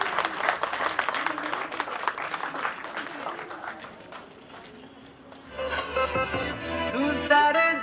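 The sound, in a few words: audience applause at a Women's Day event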